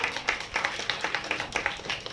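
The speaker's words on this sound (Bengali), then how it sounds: "তা ওর জন্য একটা জোরে হাততালি হোক" A small audience claps in a loose, uneven rhythm, moderately close, with individual hand claps standing out over a soft background and no talking.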